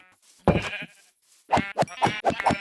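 Sheep in a Minecraft world bleat in a short burst of calls: one bleat, a pause, then four or five quick bleats in a row, close and clear with no voices.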